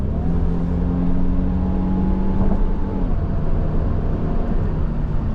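A 2025 Infiniti QX80 accelerates hard from around 25 mph toward highway speed, heard from inside as a steady, muffled engine drone with rising tonal whine and constant road noise, no talking.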